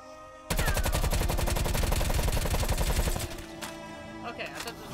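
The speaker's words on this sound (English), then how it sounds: "Put this rifle to work." Sustained automatic rifle fire in Die Maschine zombies mode: a loud, fast, evenly spaced stream of shots for about three seconds, then quieter scattered game noise.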